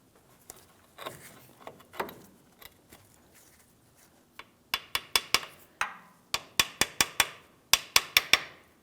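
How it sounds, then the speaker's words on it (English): Light hammer taps seating a U-joint cap on a drive shaft of a GMC Sierra 2500 HD, with soft scattered handling noises first, then sharp, close metallic taps in quick clusters of three or four. "Just a couple light taps, confirming it's properly seated."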